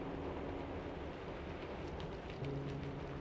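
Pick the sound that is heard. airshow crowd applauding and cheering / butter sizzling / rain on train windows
rain on train windows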